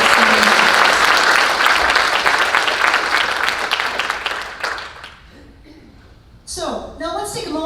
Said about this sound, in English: Please join me in giving them one more round of applause.